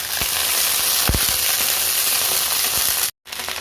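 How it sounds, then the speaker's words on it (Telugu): Green chillies, peanuts and sesame seeds fry in hot oil with a loud, dense, crackling sizzle and a few sharper pops, running steadily before cutting out briefly near the end; no speech. "ఇట్లా పచ్చిమిరపకాయలు వేసుకోవాలి. కొంచెం పల్లీలు నువ్వులు వేసుకోవాలి"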